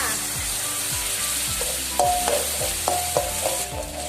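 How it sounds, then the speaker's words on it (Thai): Coconut cream goes into Thai curry paste frying in a pan for a chicken-feet and winter melon curry. A continuous sizzle runs under regular, rhythmic stirring scrapes, with a few brighter clinks midway. "พอเราผัดพริกแกงเริ่มหอมดีแล้วนะจ๊ะ ก็ให้เราค่อยๆเท หัวกะทิลงเลยจ้า"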